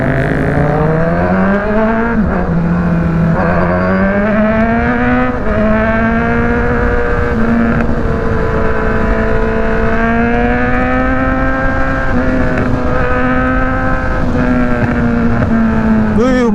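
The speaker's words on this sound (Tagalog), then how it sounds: "Malakas din yung motor na gamit ni Reed, no? Yung 650 na QJ motor." A QJ 650 motorcycle engine runs loud and close, its pitch climbing and holding at a high rev for a long stretch, with wind rushing across the microphone.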